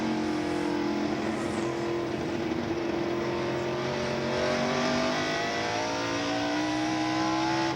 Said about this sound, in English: Here is Dale Earnhardt coming up on Rusty Wallace and taking 4th